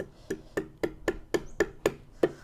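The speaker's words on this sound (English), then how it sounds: "I'm just trying to use the chisel to mimic that function where I just aggressively chop down the waist" A wood chisel chops down hard into a wooden mug blank during hand carving, eight sharp knocks at a steady beat, close and loud.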